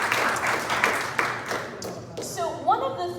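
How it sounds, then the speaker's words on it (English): An audience claps at a 2022 ranked-choice voting supporter summit in Massachusetts. The applause is a dense, scattered patter for about two seconds, then thins out as a voice starts speaking near the end. "we clap for the archives, for our history, that's right"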